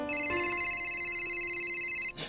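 A telephone rings in the horror video game Miya Alone, a steady electronic ringtone with bright harmonic tones that holds for about two seconds and then cuts off, heard alone without talk.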